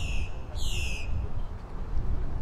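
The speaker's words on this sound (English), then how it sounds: "just to hear the birds" Birds call out in the Florida Everglades wetland, giving two bright, high, drawn-out cries that sit over a steady low rumble of outdoor background noise.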